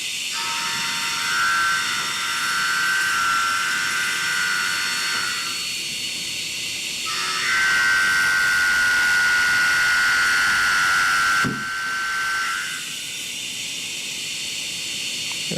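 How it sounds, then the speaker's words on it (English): An end mill held in a standard shrink chuck cuts metal with the width of cut stepped up by one millimeter, giving a steady hissing whine with sustained high tones that shift as passes change, plus a brief sharp break partway through. "we always increase the width of cut by 1 millimeter and compare the milling noise"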